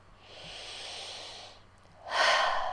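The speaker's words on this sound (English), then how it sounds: "Breathing." Two slow, close breaths during a guided tapping session: a long soft inhale followed by a louder, breathy exhale, quiet and alone with no talking.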